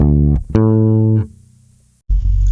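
An electric guitar plays the closing bar of a song: a short note, a sustained ringing note that decays, a brief silence, then another note struck loudly.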